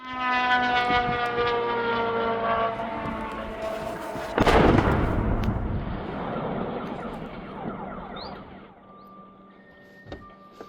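Two Shahed drones strike a house in Novhorod-Siverskyi, a droning engine whine fading before a loud explosive blast midway, followed by rumbling debris, then a sharper distant bang near the end.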